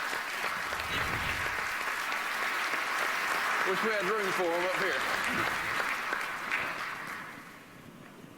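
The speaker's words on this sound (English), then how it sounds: "Give them a round of applause." A banquet audience at the 2012 NASCAR Camping World Truck and Nationwide Series awards applauds the standing Turner Motorsports crew, steady clapping filling the room while someone speaks over it into the microphone.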